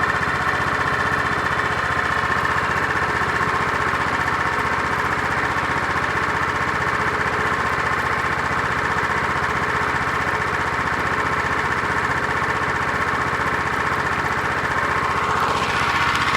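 Small engine running on wood gas from a portable gasifier, exhaust routed through an old oil cooler as a muffler, a steady close droning hum that stays even for about sixteen seconds with no voices.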